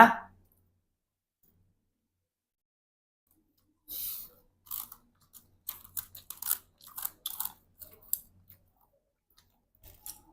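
Someone eats in a car, with soft, close crunching bites and chewing in irregular bursts against near silence.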